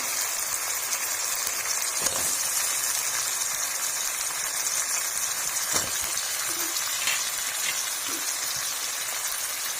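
Potatoes sizzle in a hot pan for an eggplant potato curry, a steady, close hiss of frying that runs unbroken the whole time with a few faint knocks of stirring.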